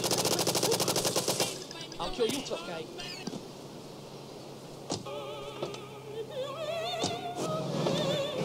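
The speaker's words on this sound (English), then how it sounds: "So I'm just going to try and snipe this dude with an AK-47" AK-47 gunfire in GTA III, heard as a rapid loud automatic burst at the start followed by scattered single shots and game sounds, with someone talking over the action.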